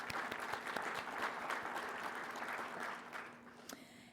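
Sustained applause from a conference plenary audience, dense steady clapping fairly distant and moderate in level, thinning out toward the end.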